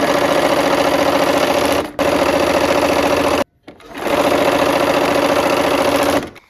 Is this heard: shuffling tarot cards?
no